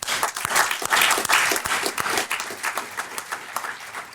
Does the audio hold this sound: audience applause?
yes